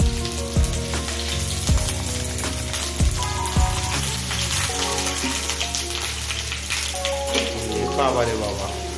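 Onions and egg fry in fish oil with a loud, continuous sizzle and crackling spatter close by, under faint background voices and music.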